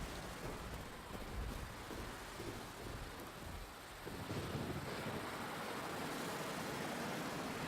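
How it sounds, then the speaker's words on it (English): Heavy jungle rain pouring steadily in the wet season, a dense loud hiss with rumbling gusts of wind buffeting the microphone throughout. "Mid-December, the rains come."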